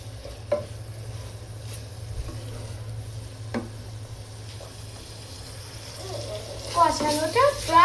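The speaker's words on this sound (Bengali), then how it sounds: "এই যে এবার 3 রকমের ডাল ও পোলাও চাল ভালোভাবে কষে" Three kinds of lentils and polao rice being stir-fried in a pot for khichuri, a low steady sizzle with occasional spoon scrapes against the metal, close, with a voice talking toward the end.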